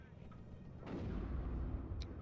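Artillery fire in the video game WARNO, a muffled low rumbling barrage that swells and holds under the game's ambience, with a faint distant thud before it.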